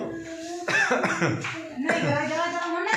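A person coughs several times in cold weather inside a car, short harsh bursts close to the microphone, mixed with throat sounds and brief vocal noises.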